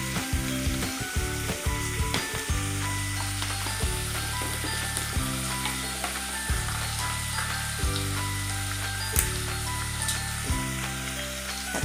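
Onions sauté in a pan for chapati kurma, a close, steady sizzle broken by a regular series of clicking, knocking stirring strokes every second or so.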